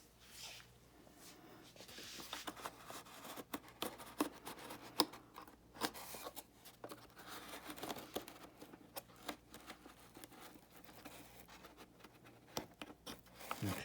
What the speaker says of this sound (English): then I put a mark on the other side